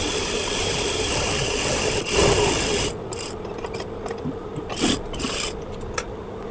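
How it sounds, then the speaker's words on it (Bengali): A sewing machine stitches through doubled fabric, running in a loud, close, continuous whirring burst for a few seconds, then stopping and starting in shorter mechanical bursts. "ডাবল করার পরে হাফ ইঞ্চি এখানে সেলাই প্লাস রেখে আমরা সেলাই দিয়ে নেব।"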